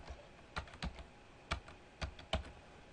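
Fingers tap a computer keyboard in a quiet room, a handful of soft, separate keystrokes in a loose, irregular rhythm.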